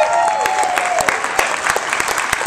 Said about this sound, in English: Applause for Nahoku Hanohana Award winner,